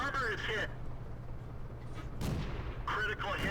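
Tank cannon fire in World of Tanks, a T-60 light tank battle: booming shots and hits rumble under continuous excited commentary, with a heavy blast near the middle.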